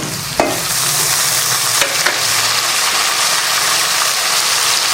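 Whole onions sautéing in an oil pan for Tamil vatha kulambu, with tomato about to go in: a steady broadband frying sizzle throughout, close and alone, with a couple of brief clinks or stirs near the start.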